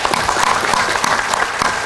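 Audience clapping at a Sinau Bareng community gathering with Kiai Kanjeng in Banyumudal, Pemalang: steady, close, lively applause from many hands throughout, with no talk over it.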